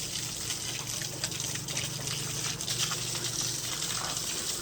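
Cold water gushes and splashes continuously over a dog at close range, a steady pouring sound with small spatters and no talking.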